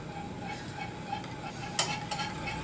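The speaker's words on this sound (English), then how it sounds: "Just go ahead and start whisking like you're making ganache." Soft continuous scraping and swishing of a whisk stirring melted chocolate and butter in a bowl, with a couple of light clinks against the side.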